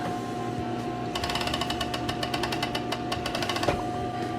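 A sewing machine stitches bias tape onto a T-shirt, its needle hammering in a fast, steady rapid-fire run that starts after a second and continues close and loud over a constant motor hum.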